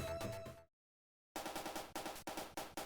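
Robotnik's ship blows up in the 1991 Sonic the Hedgehog video game: a burst of blasts, a brief silence, then a rapid run of loud, evenly spaced explosion pops.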